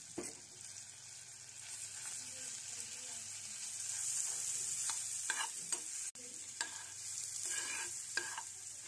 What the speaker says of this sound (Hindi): लहसुन को थोड़ा सा ब्राउन कर लूँगी ताकि इसका कच्चापन ख़त्म हो जाए